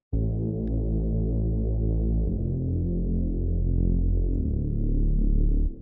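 A deep, sustained Nexus synthesizer bass patch with a throbbing low rumble, shifting pitch twice across several seconds, heard alone.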